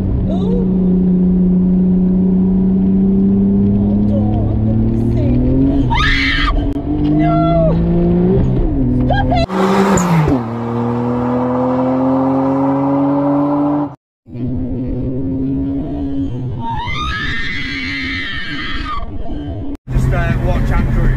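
A car engine revs hard and loud throughout, with rising and falling tones as it accelerates and shifts, a brief cut near the middle, and voices talking faintly underneath.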